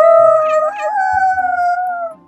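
Two storybook characters, a farmer's daughter and a wolf, howl together as imitated by a reader's voice: a long sustained sliding howl, loud and close, rising then holding steady before fading.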